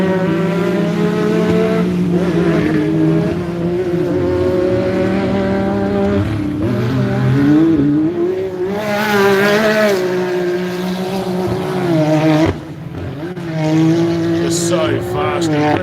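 Off-road race cars, including a Yamaha side-by-side and Can-Am Mavericks, roar past with engines revving and rising in pitch, loud and continuous under a commentator's voice.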